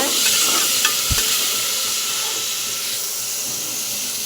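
Onion sizzles and fries in a pan with ginger, garlic and green chili paste while being stirred for a vegetable biryani, a steady close hiss with a brief scrape of the spoon and no talking.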